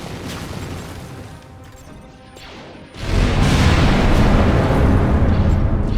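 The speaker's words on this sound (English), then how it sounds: "Fuck that mortar." Mortar blast in a Star Wars video game, a sudden loud boom that swells into a sustained roaring rumble after a quieter stretch, with no speech over it.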